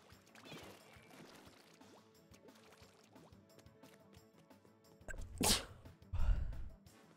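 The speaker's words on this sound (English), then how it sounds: "Cool sneeze, bro." A single loud, sharp sneeze bursts out near the end, with quieter background sounds and a muffled thump after it, while faint indistinct sounds run through the earlier part.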